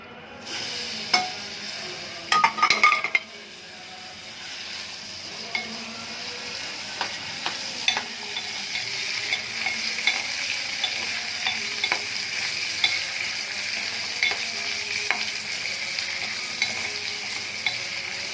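Spices, green chillies and ginger sizzle and crackle steadily in hot oil, with a few sharp clinks of a spoon against the pan early on and frequent small pops throughout.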